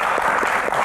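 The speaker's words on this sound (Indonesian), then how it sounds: "tepuk tangan dulu semangatnya." A studio audience claps steadily in a dense, continuous burst of applause, close and fairly loud, lasting under a second.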